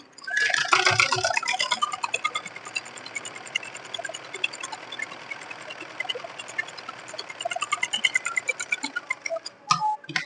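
A sewing machine stitching a simple blouse runs in a fast, steady mechanical ticking rhythm up close, continuous for several seconds with a few louder clatters near the end.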